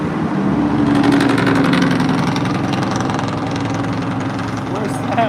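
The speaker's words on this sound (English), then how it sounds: "Dude, that truck sounds insane." A loud truck engine rumbles steadily in street traffic on a 66-degree evening near Mount Helix. The low, continuous drone runs the whole time with some rough pulsing, and people talk nearby over it.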